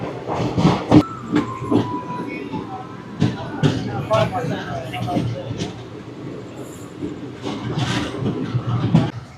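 Tirupati Express train pulling out of Puttur railway station, a steady rolling rumble with rhythmic wheel clatter and a brief high squeal early on, with voices talking over it throughout.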